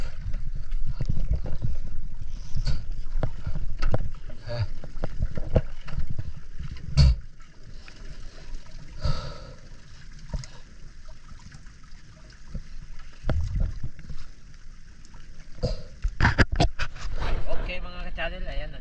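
Water sloshes and trickles around a small boat in motion, with paddling or hull splashes and voices talking intermittently nearby.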